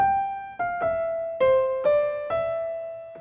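A brief jig melody phrase of six or seven clear, bell-like notes played alone, each struck distinctly and ringing into the next.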